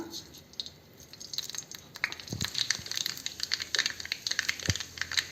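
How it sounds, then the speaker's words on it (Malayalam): A spoonful of mustard seeds crackles in hot coconut oil, with scattered sharp pops that grow denser and quicker over a faint background hiss. "കടുക് പൊട്ടി വരുന്നുണ്ട്"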